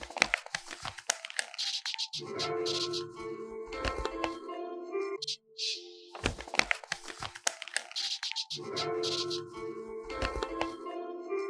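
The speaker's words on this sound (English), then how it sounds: "I literally just like crumpled a piece of paper in front of my microphone." A sheet of paper is crumpled right in front of a microphone, with close, crisp crinkling and crackling in bursts and a brief gap before the rustling repeats as a loop.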